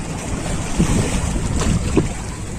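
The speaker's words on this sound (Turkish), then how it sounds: "Deniz dalga." Rushing sea water and surf churn loudly against a boat in Üsküdar, Istanbul, mixed with blustery wind buffeting the microphone.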